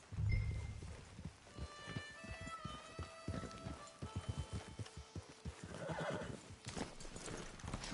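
Horses in Red Dead Redemption 2 snorting and whinnying over steady clip-clopping hoofbeats, close and fairly loud, with a rhythmic trot running through the whole stretch.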